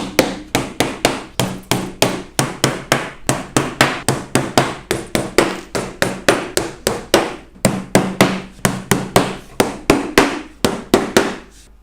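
Nails driven into the corners of a top bar beehive with a hammer, sounding as a long, steady run of loud, sharp strikes in quick rhythm with brief pauses between groups of blows.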